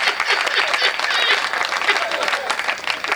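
An audience at a Hindi kavi sammelan poetry recital applauds in a dense, sustained burst of clapping that fills the whole stretch, with a voice speaking over it.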